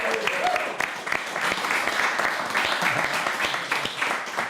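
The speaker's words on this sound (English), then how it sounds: "Big round of applause for Ian." An audience at a singing session applauds a guest singer with a continuous wash of clapping that holds steady at moderate loudness, with a voice faintly heard under it.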